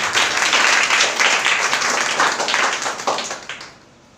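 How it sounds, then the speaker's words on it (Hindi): A church congregation at an evening prayer meeting claps hands together in a dense burst of applause that gradually thins and fades out near the end. "ताली बजाना चाहते बजाइए प्रभु"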